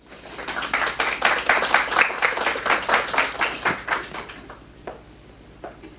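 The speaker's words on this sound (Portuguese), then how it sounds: "Eu convido a professora Anita Maria Memberg Perecim, a quem eu peço uma salva de palmas." An audience claps to welcome a professor invited to speak at a lecture on personnel administration, a crisp burst of clapping that swells, then tapers into a few scattered last claps.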